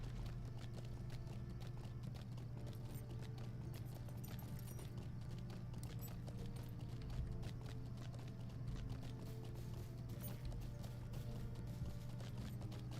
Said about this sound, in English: I'm managing to stay on this coast on the horse pretty well.